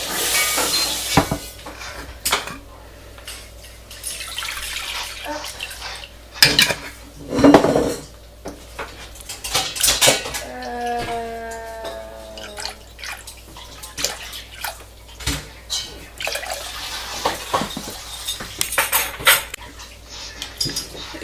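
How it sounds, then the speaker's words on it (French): Milk poured into a cooking pot at the start of a vanilla ice cream base, a short rising liquid stream amid clinks of utensils and pot clatter, with a faint hiss in the background. "dans un faitout je vais mettre 500 ml de lait"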